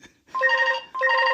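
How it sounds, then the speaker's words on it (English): A landline house phone in an empty house rings in two electronic trilling bursts separated by a short gap, loud and close with no talk over it. "the house phone's ringing"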